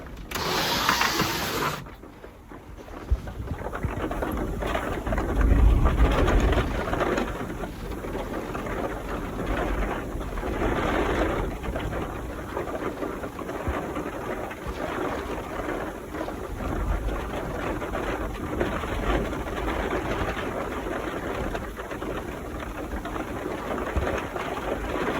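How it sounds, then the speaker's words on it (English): Steady, roaring wind buffets with a constant hiss of rain, gusts swelling and easing over a low rumble, heard from inside a van during a storm. "This is what it sounds like to be in the van in a storm."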